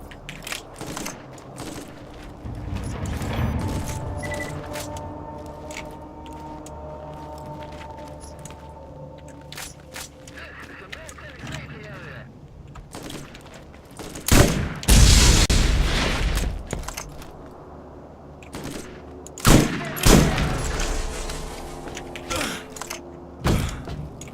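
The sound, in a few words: explosive machine gun firing in video game Borderlands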